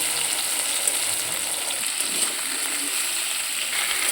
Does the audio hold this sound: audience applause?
no